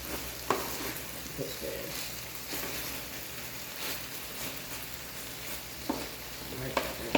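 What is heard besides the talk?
chicken frying and being stirred in a pan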